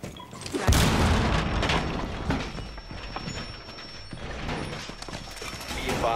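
Walls being reinforced in the tactical shooter Rainbow Six Siege: heavy metallic clanks and a booming thud, then grinding, ratcheting mechanical creaks as the panels lock into place, fairly close and continuous.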